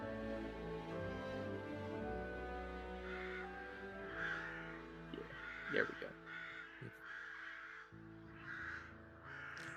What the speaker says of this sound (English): you guys know it's morning because the crows are cawing